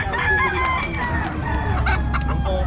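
A Sweater Claret gamecock rooster crows loudly and close, with clucking from other fowl mixed in over a noisy outdoor background.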